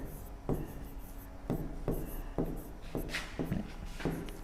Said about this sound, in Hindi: हम यहाँ पे एक चीज लिख रहे हैं